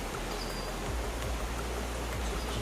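Waterfall in Westquarter Glen, a woodland glen near Falkirk, pouring steadily with a close, broadband rushing roar that holds constant throughout, with no voices.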